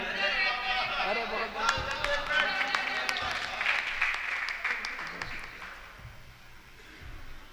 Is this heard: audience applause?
yes